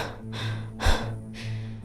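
Addie, a character in the game Return to Grace, breathes heavily in three ragged, close breaths, the middle one a sharp, louder gasp, over a low steady hum.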